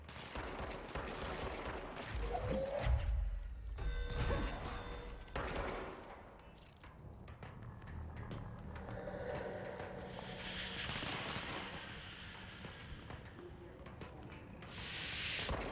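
Rockets and gunfire in the video game Control, bursts of shots and blasts mixed with game sounds, fairly loud and busy, with people talking over it.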